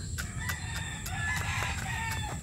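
A chicken clucks in short repeated bursts while pecking at tomato and banana breakfast scraps, close by and fairly loud, with pecking taps mixed in.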